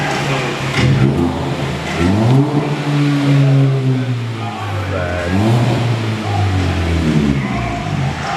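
A Hyundai Veloster with its muffler deleted revs repeatedly, the engine note rising and falling in several loud, raspy sweeps close by, with a steady exhaust drone between pulls.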